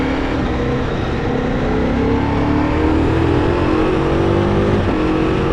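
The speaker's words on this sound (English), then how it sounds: "So let's see how this bike rides." A 2026 Ducati Multistrada V4 Rally motorcycle accelerates with a loud, close engine climbing steadily in pitch, heard alone without any talking.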